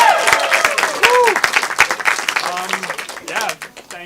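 Applause from a comedy grad show audience, a short burst of close clapping that fades out, with a host speaking over it.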